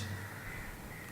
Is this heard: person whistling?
no